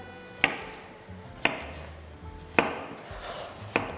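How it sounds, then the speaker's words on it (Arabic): A knife slices zucchini into rounds on a cutting board, four crisp, evenly spaced chops close up, with faint kitchen background between strokes. "وانا باش نقص لكم القرعه هذيا لا كوبي اون روندي"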